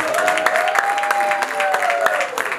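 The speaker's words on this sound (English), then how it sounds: "Please, a round of applause for Humble Prince and Brittany from Wave." Sustained audience applause at a gospel comedy night in 2018, thick and continuous with sharp individual claps and a faint tonal whistle-like line running beneath.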